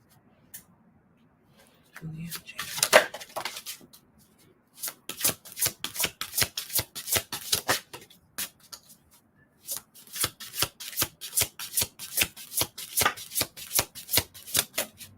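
Tarot cards get shuffled close by in quick, rhythmic riffling bursts, a brief rustle first and then two long runs of crisp, regular flicks, with no voices.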